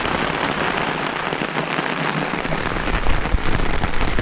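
Steady rain pattering on a surface on the Superior Hiking Trail, a dense, continuous hiss of drops that stays even and fairly close throughout.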